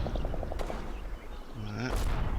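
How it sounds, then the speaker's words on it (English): Artillery fire in the Combat Mission Red Thunder video game lands as distant booms and rattling bursts, heard under a man's speech along with a rapid mechanical ticking. "that's our artillery hitting the submachine gun company over there"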